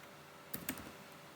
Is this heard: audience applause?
no